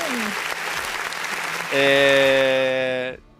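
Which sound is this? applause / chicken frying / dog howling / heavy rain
applause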